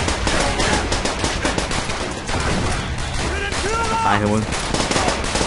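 Dense rapid automatic gunfire and explosive shots from the video game Call of Duty: World at War (Axis mod), loud and continuous, with a player shouting over the battle.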